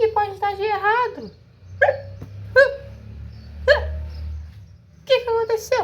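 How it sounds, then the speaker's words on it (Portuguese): A cartoon blackbird that ate berries too fast hiccups in a voiced, squeaky way, with about five loud, evenly spaced hiccups separated by short pauses. "você comeu muito rápido e você ficou com soluço"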